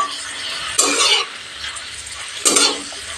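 Prawns fry in oil in a kadai, giving a steady soft sizzle. Two louder bursts of stirring and scraping break through, with no one speaking.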